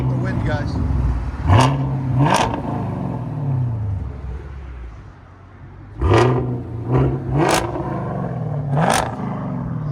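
Straight-piped 2023 Chevy Camaro SS with a 6.2L V8, revved hard in several sharp bursts that climb and fall back to a rough, burbling idle, loud and close, with wind noise and people talking around it.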